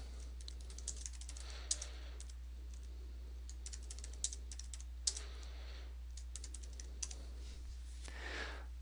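Keys clatter on a computer keyboard as a form name is typed into form-design software, a quiet run of uneven taps in short bursts with brief pauses, heard alone over a low steady hum.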